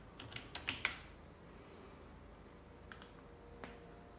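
Faint computer keyboard typing, a short run of soft clicks near the start followed by a few scattered keystrokes in a quiet room.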